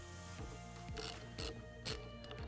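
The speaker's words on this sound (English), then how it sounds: "Now we will finish tightening all the screws." Stainless steel screws are tightened on a squeegee and absorbent wiper assembly, giving a few short, sharp clicking bursts over a steady tonal hum in the background.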